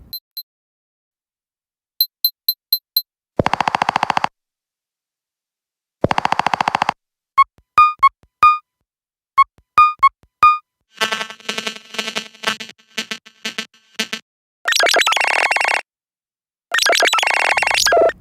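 Nothing Phone 1 ringtone playing alone: a sequence of short electronic chimes and glitchy tonal bursts, with brief pauses between blips and denser stuttering patterns toward the end, close and clear.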